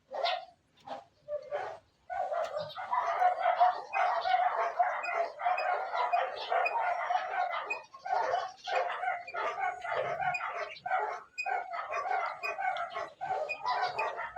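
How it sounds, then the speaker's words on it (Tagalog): A dog barks rapidly and continuously at medium distance, a dense string of yapping barks that starts after a few scattered sounds and carries on to the end. "Sumabay pa yung ingay ng aso eh."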